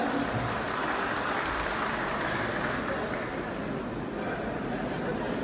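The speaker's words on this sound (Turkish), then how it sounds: "Kocaman bir alkış alayım." Dense, sustained applause from a large crowd at a live stage show in Kastamonu, a continuous wash of clapping with voices underneath.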